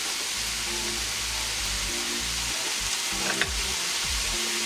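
Mushrooms and celery frying in a pan for Ghana meat pie filling, giving a loud, continuous sizzle with a few stirring scrapes and no talking.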